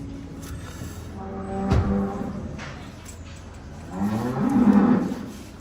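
A cow moos during hoof trimming, two drawn-out lowing calls, the second longer and louder, over faint background noise.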